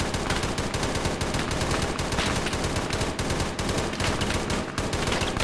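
Heavy gunfire in a military shooter video game set in a warzone, a continuous, loud, rapid stream of automatic shots from several weapons with no pauses, no voices.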